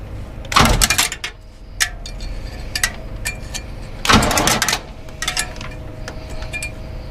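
Old Cadillac Coupe Deville barn find engine cranking and catching after sitting 25 years, two loud bursts of starting noise rising over a steady idling rumble, close by with clanks and knocks between, no voices.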